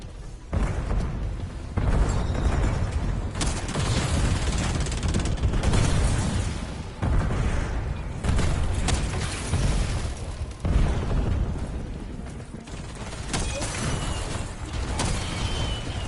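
Ballistic shells explode again and again in a video game, a run of heavy booms and bursts coming in irregular waves, loud and dense, with almost no talk.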